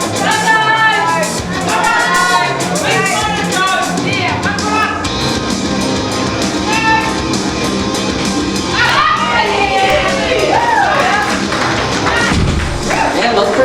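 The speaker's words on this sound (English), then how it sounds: "Some good support in the crowd." A crowd cheers and shouts for a lifter's final deadlift attempt at an Auckland powerlifting meet, with loud continuous voices and scattered thuds and taps throughout.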